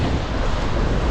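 Strong, gusty wind at a surf beach roars across the microphone, and the crash of waves blends into a loud, constant, broadband rush with no voices.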